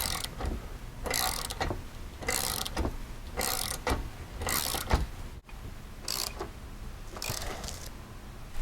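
Bolts on the clamps of a 2020 Polaris General being tightened with a ratchet, repeated bursts of quick metallic clicking at a steady rhythm, close and fairly loud, with no talking.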